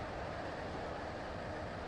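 Steady, dense rumble of a train approaching West Wyvern station in the Roblox railway game Stepford County Railway, continuous and fairly loud with no talk over it.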